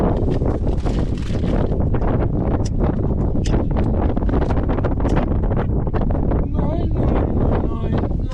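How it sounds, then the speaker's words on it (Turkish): Wind blowing outdoors in the survival game DayZ, a loud, continuous rushing gust that fills the whole stretch, with faint rustles over it and no talking. "Esiyor."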